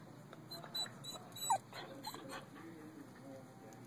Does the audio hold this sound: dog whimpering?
yes